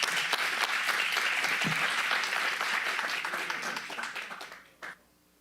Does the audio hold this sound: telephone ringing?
no